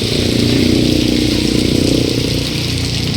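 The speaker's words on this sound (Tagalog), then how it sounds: "ayan yung motor ko" A motorcycle engine runs steadily at idle in the rain, a continuous low rumble with a buzzy edge that stays loud and close throughout.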